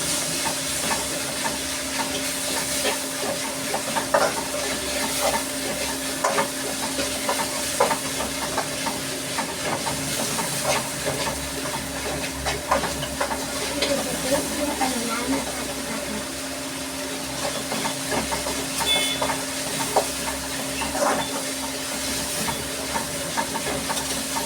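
Masala for conch curry sautéing and being stirred in a pan, making a continuous sizzling hiss with scraping stir strokes over a long stretch, close by, with a steady background hum.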